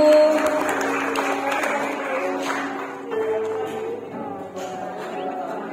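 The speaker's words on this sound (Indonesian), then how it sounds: "Mari beri aplaus yang meriah Bapak Ibu." Guests at a wedding reception applaud, a sustained round of clapping from a crowd that carries on steadily for several seconds, with faint voices mixed in.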